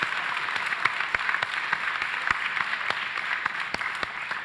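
Audience at an SF Tech Week 2024 talk applauding the Replit team, steady crowd clapping with individual sharp claps standing out, fairly even in loudness and without talk.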